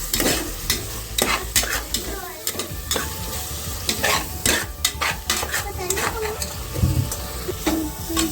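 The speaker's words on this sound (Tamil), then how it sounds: "இஞ்சி பூண்டு எப்போ அரைச்சி எடுத்துக்கோங்க" Ginger garlic paste sautéing in a pan for mutton biryani, a steady sizzle broken by repeated scraping and stirring clinks of a spoon against metal, close and fairly loud throughout.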